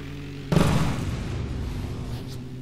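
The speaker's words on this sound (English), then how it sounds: "An explosion." A single sudden boom from an explosion in the video game M.A.V. bursts out, then fades into a low rumbling tail, with no talking.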